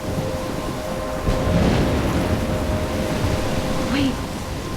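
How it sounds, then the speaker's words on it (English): A storm rages in Life is Strange, a steady roar of wind and rumbling thunder with one heavier swell partway through, loud and continuous, with no one talking. "I'm trapped in the storm?"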